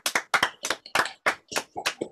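A small group at a music education seminar claps for a few seconds, with distinct, crisp, uneven hand claps at close range in a quiet room.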